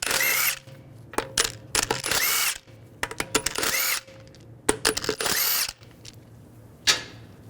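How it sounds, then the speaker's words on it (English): Short bursts of a power tool with a 17mm socket spin lug bolts off a 2009-2017 Volkswagen Tiguan 2.0L front wheel. The whirring runs come close and loud, broken by clicks and quiet pauses. "Using a 17mm socket, take the lug bolts out."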